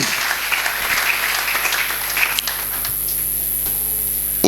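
A church congregation claps steadily in dense, continuous applause for several seconds, moderately loud and close, fading slightly toward the end.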